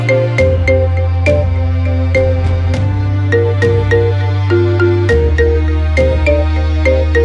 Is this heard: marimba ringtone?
yes